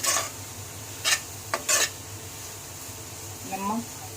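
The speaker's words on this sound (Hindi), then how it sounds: "गाजर डाल दिए, सब अच्छे से मिक्स कर लेंगे।" Carrots being stirred into a chicken cutlet filling in a pan, with a low sizzle, a few sharp spatula clinks against the metal and brief scraping, and a voice speaking near the end.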